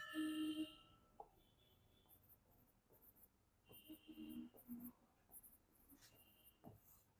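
Writing on a board during a spoken English lesson: a few short, scratchy strokes with long pauses between them, faint and close in an otherwise quiet room.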